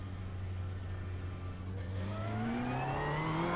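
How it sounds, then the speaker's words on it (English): A GT3 race car approaches in the iRacing game at Phillip Island, its engine note climbing steadily in pitch and loudness as it nears. The whirring revs are heard alone, with no voices. "There's a car approaching."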